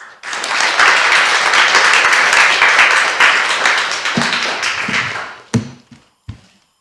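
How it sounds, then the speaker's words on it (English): An audience at a citizens academy session gives a full round of applause for about four seconds. It fades into a few scattered claps and thumps near the end. "How about a round of applause?"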